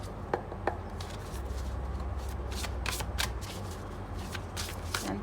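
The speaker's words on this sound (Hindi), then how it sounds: "चलिए टैरो भी शफल कर लेते हैं" Tarot cards are shuffled by hand close up in repeated riffling bursts, with a few sharp taps and a low steady hum underneath.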